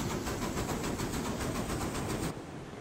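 A locomotive engine in the video game RailRoads Online gives a loud, close, steady rumbling chug with rhythmic pulses. It cuts off abruptly near the end.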